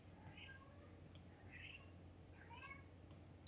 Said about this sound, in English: I have a cat that is being very vocal right outside my door.